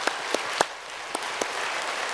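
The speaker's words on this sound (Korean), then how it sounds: "뜨거운 박수로 격려합시다." A church congregation at an early Sunday morning autumn special prayer service gives warm applause, a steady wash of many hands with a few sharper claps standing out, filling the room briefly.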